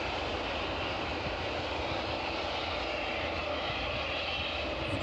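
A Boeing 777 taxis at East Midlands Airport, its engines giving a continuous even rumble and hiss at a moderate distance, unbroken throughout.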